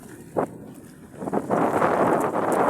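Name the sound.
wind over rough water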